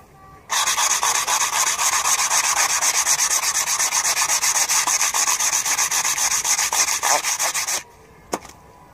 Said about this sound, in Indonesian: habis itu baru deh kita amplas pinggirannya biar